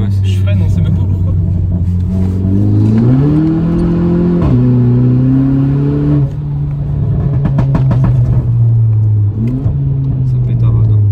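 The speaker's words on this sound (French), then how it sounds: "Ça pétarade." A modified car engine with a raised rev limiter revs loudly and close up, its pitch climbing and falling in repeated pulls, with sharp crackling backfire pops between revs.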